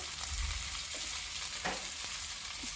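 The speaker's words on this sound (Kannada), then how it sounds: "ಒಂದು ನಾಲ್ಕರಿಂದ ಐದು ಮೀನನ್ನ ತಾವ ಮೇಲೆ ಹಾಕಿ ಲೋ ಫ್ಲೇಮಲ್ಲಿ ಚೆನ್ನಾಗಿ ಫ್ರೈ ಮಾಡ್ಕೋಬೇಕು" Four or five sardines frying on a tawa in coconut oil over a low flame on a wood-fired stove, a constant soft sizzle with a few faint clinks, heard alone.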